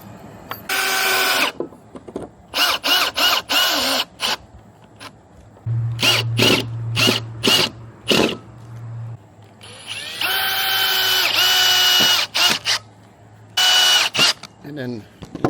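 Power drill driving screws into a homemade vibrating worm-castings sifter, sounding as several short bursts and longer whirring runs with pauses between, close and loud, with a low hum underneath.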